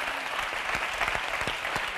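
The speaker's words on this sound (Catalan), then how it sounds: "Molt bé, un fort aplaudiment." Studio audience on a TV3 game show, La Partida, breaking into a short burst of dense clapping with a few sharper individual claps standing out, loud and close.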